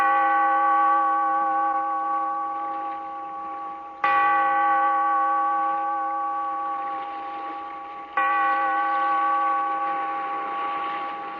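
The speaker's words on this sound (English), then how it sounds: "Bellkeeper, toll the bell, so that all may know we are gathered again in the Weird Circle." A deep bell tolls three times, each strike ringing out with a rich, sustained hum that slowly decays before the next, loud and alone with no voices.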